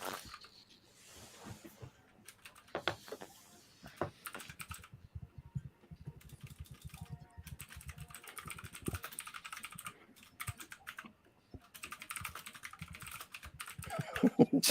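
A computer keyboard clacks in quick irregular bursts of typing, close and fairly quiet, with pauses between runs of keystrokes.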